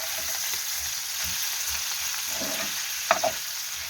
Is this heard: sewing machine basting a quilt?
no